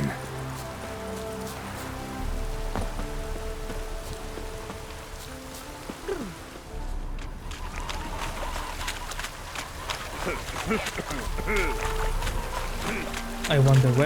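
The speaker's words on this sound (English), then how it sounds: "Looks like rain." Rain falls steadily on surfaces in the video game Witcher 3 Hearts of Stone, a constant patter over music and game ambience with occasional louder drips.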